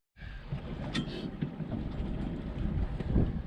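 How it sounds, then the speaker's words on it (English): Strong wind gusts over a small fishing boat on a cove with whitecaps, a steady roaring rush buffeting the microphone close up, with no talking. "The wind is just beating us to death."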